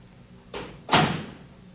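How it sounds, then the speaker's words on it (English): A front-load washing machine's loading door being shut: a soft swinging brush, then a firm, louder latching thud a moment later, close and clear with no talk. "Close the loading door."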